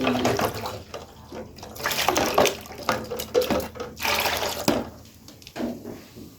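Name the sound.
washing equipment with running water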